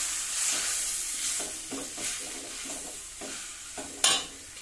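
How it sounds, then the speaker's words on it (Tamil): Drumstick leaves and drumstick flowers sauté in a pan with a steady soft sizzle, overlaid by repeated scraping stirs and a sharp metallic clink near the end. "நல்லா வதக்கி விட்டுடலாம்."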